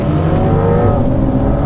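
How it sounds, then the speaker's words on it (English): A Porsche 911 Carrera S and a Corvette accelerate hard side by side in a roll race, their engines making a loud, continuous, close droning roar throughout. "I'm gonna do a roll race. As we drive by the start line and go."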